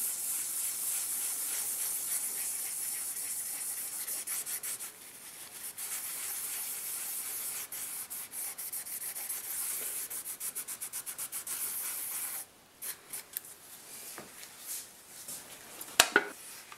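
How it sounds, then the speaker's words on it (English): Steady scrubbing with acetone to remove toner and ink from a circuit board, a hissy, abrasive sound in long strokes, close and alone, ending with a few light clicks. "Now we can get that toner and that ink off from there with a little bit of acetone."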